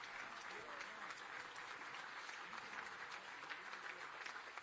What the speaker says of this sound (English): Give him a big hand as he leaves.